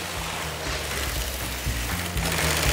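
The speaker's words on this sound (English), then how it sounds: "can you hear the sound of the sewing machine?" An industrial sewing machine stitching PVC gives a steady mechanical hum with a rapid, low chattering rhythm, running continuously at close range, with no talk.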